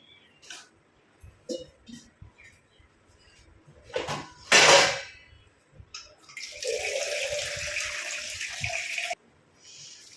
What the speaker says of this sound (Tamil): இதில் தேவையான அளவு தண்ணி ஊற்றிட்டு நல்லா வாஷ் பண்ணிக்கலாம் அந்த கருவேப்பிலையை